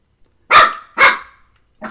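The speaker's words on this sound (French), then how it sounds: "Oh, Teddy, t'aboies tout le temps, quand tu ne dois pas" A dog barks three times indoors, loud and close, with two sharp barks in quick succession and a shorter one after a pause, with no other sound between them.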